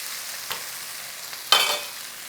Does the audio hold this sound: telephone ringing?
no